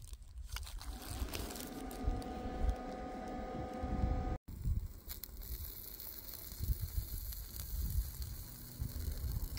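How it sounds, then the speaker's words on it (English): Continuous crackling sizzle of food frying on a hot Dash Mini griddle at a campsite, fairly faint, with a brief cut partway through and no talking. "Oh yeah, you hear that sizzle"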